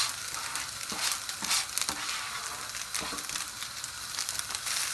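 Shredded cabbage and carrot stir-fry in a hot pan, a steady broadband sizzle broken by irregular scraping and tossing strokes of stirring, close and fairly loud, with no voices.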